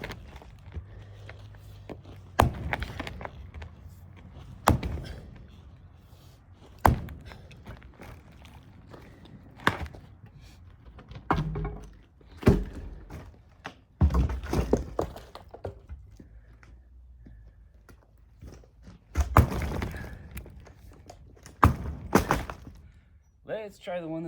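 Eucalyptus firewood is split with a Chinese 8-pound maul, producing a series of sharp, heavy thunks and cracks spaced several seconds apart, with rustling and a person speaking between strikes.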